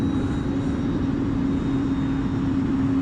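A Carbon Cub S+ model airplane flies overhead, its engine a loud, steady droning whine that holds constant throughout with no break.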